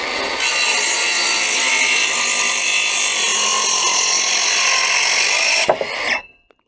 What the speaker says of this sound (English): I'm just going to quickly cut through here